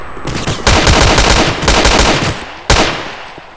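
Automatic rifle fire in Counter-Strike 1.6, loud bursts of rapid shots in three separate strings with short pauses between them, close and dominating.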